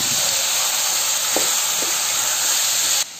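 Eggplant pieces sizzle in hot oil in a pan, a loud, steady frying hiss with a couple of faint clinks of a spoon, cutting off abruptly at the end.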